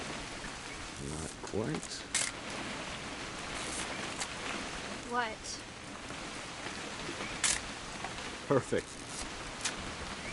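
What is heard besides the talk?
rain falling in the video game What Remains of Edith Finch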